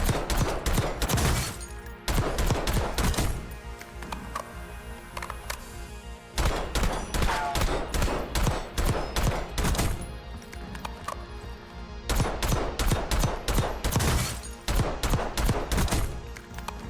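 Loud bursts of automatic gunfire from a weapon build being tested on a firing range in Black Ops 6, the bursts repeating with short pauses between them.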